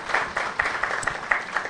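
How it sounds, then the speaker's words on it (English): An audience claps steadily for presenters at a live-streamed higher-education event on the ethical use of AI, producing a brief, close, uneven patter of hands. "So let's give them a round of applause even as they listen to us"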